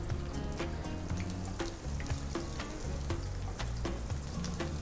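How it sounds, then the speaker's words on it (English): Onions sizzle and crackle in hot olive oil in a pan, with a steady frying hiss and scattered pops and occasional stirring clinks, close and continuous. "Our onions straight in hot olive oil. Gotta sizzle."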